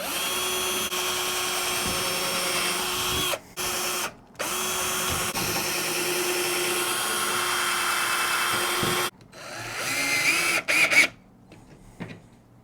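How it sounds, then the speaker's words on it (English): A power drill with a 7/16 bit pre-drills holes in steel angle iron, whining steadily at close range with brief stops, then a rougher burst of bit grinding before cutting off. "And pre-drill again."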